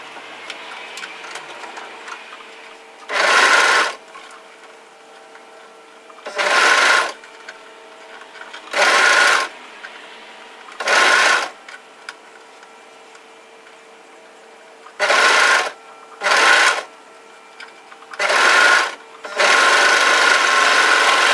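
Home sewing machine stitching a sweatshirt cuff in eight short bursts of a few seconds each, separated by quiet pauses, with the final run the longest and close by.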